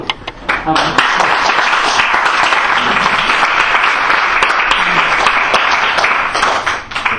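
An audience claps steadily for several seconds after a talk on rethinking the meaning of money, the applause loud and dense throughout, with a few voices murmuring under it.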